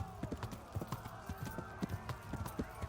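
Horse hooves clip-clop on the ground in the video game Kingdom Come Deliverance, a quick, regular trotting rhythm of sharp, close hoofbeats repeating steadily over a low ambient hum.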